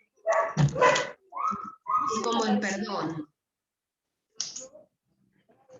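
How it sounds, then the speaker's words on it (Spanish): A dog barks near an open microphone during an online law class, with sharp barks mixed in and around a person speaking Spanish, then a few faint noises after a pause. "Alguien tiene un perro y abierto el micrófono"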